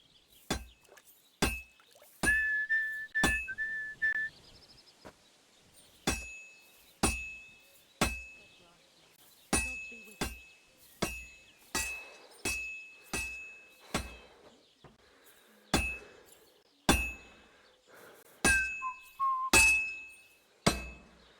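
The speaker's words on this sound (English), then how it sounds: "if it was all about hitting an anvil with a hammer, any dolt could do it. You've got to hammer the workpiece evenly." Hammer strikes ringing on a workpiece over an anvil in a medieval blacksmith's forge in Kingdom Come Deliverance 2, sounding as a steady series of sharp metallic clangs, roughly one to two per second, loud and close with short ringing tails.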